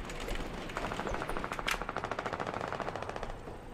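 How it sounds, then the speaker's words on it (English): Rapid SMG bursts in a Fortnite-style solo cash cup match, two sprays of fast automatic fire at moderate distance, crackling and rhythmic, with no talk over them. "they just SMG sprayed each other"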